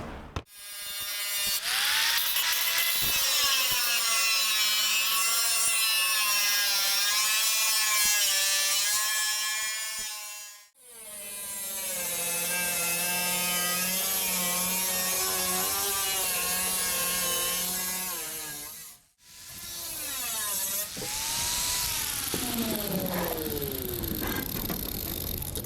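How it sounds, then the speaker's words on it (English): Steady high-pitched cutting tool, likely a grinder or cut-off wheel, slicing out an old rusted front fender panel on a Chevy/GMC truck, running loud and continuous in three long passes with brief pauses between them. "when I'm cutting out the old piece"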